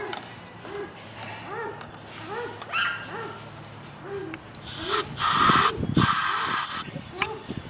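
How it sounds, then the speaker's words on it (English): Starting fluid hisses from an aerosol can in a couple of loud bursts sprayed into the carburetor throat of a Troy-Bilt power washer engine that won't start, with someone talking before and between the sprays. "We're going to shoot a little starting fluid right into the throat of the carburetor."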